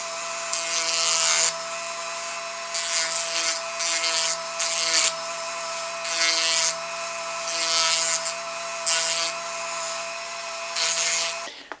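Filing and polishing a small radius on the edge of a Ruger 10/22 magazine, heard as repeated bursts of rasping strokes about once a second over a steady background hum, close and fairly loud, no talking.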